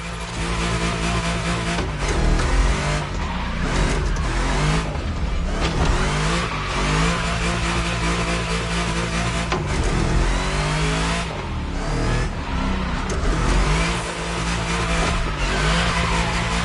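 A powerful big-block streetcar in The Crew Motorfest revs hard and drifts in a freestyle rally, its engine roaring loud and close throughout with rising and falling rev sweeps and no talk over it.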